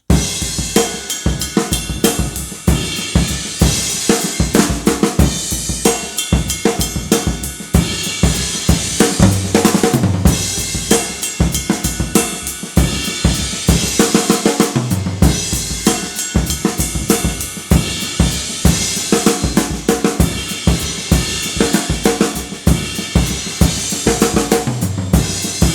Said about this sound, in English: you have fills that sound like this